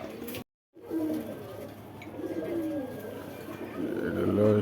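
Pakistani Giribaz pigeons at a market stall cooing in low, rolling murmurs, close and continuous, after a brief gap of silence near the start.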